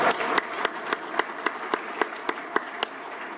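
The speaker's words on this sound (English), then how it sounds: "let's give her a big round of applause again one more time" At a community Founders Day event at a country club, someone claps in a steady, evenly spaced rhythm of about a dozen sharp claps. The claps ring out over a soft, diffuse wash of background noise.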